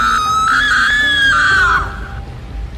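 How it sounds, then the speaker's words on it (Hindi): A scream rings out from inside an old mansion, one loud, sustained, wavering cry that holds for almost two seconds and then cuts off, leaving a quieter background. "इस हवेली के अंदर से किसी के चीखने चिल्लाने की आवाज आ रही थी"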